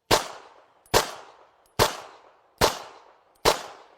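Five sharp handgun shots fired at an even pace about a second apart, each a loud crack with a short ringing decay, nothing else heard between them.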